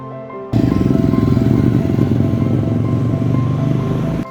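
Motorcycles pass on a road in Bergen, Norway, ridden by riders in full bike suits and gear. After a quiet start, a loud, close engine roar cuts in abruptly, holds steady for several seconds, then cuts off.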